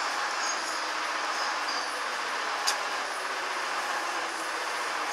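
A Minsk metro 81-717 train rides from Mogilevskaya toward Kamennaya Gorka with a constant loud rumble and wheel roar inside the carriage, a brief high squeal or click midway, and no talking.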